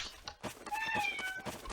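A cat meows in a drawn-out, wavering call close by, under faint background noise and game sounds, lasting about a second.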